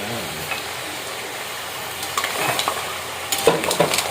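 Shrimp frying in butter and garlic, a constant close sizzle with scattered scraping and clinking as the pan is stirred, stirring getting busier toward the end.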